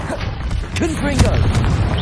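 A Confringo explosive spell goes off in Hogwarts Legacy combat, a short booming burst over steady rumbling game noise with a vocal sound in the mix.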